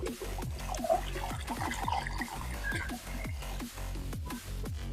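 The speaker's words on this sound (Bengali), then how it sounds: "জাস্ট আমরা বোতলটাকে ঘুরিয়ে নেব" Water drains quickly from a swirled plastic bottle, a rapid rhythmic glugging and gurgling that repeats several times a second, steady and close throughout.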